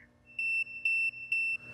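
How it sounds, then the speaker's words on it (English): The audible alarm on the control panel of a Malabar Model 1016 coolant cart sounds as a loud, pure electronic tone pulsing in a regular on-off beep pattern, close up and alone. "The 1016 has an audible alarm located at the top of the control panel."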